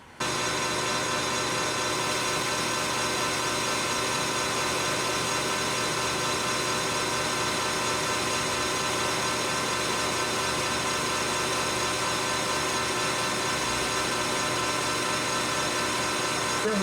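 Metal lathe turning a part at about 680 RPM with a fine feed, a steady close motor hum with a faint high whine, unbroken throughout.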